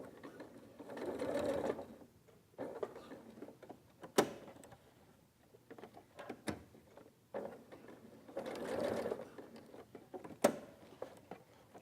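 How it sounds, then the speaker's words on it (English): Sewing machine running a basic straight stitch through elastic, in two steady bursts of whirring separated by quieter pauses with a couple of sharp clicks, close and moderately loud. "we're using just a basic straight stitch here. Stitch around."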